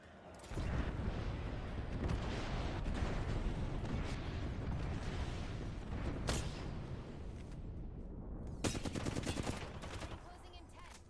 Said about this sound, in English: Airstrike. Find some cover.